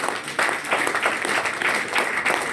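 A church congregation applauds in steady, dense clapping that runs throughout, close and fairly loud, with faint voices underneath.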